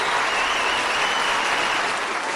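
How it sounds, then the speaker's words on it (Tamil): Dense, steady applause from a full audience in a debate hall, loud and continuous throughout, with no pauses or voices breaking through. "நாஞ்சில் விஜயனுக்கு ஒரு அரங்கு நிறைந்த பாராட்டு"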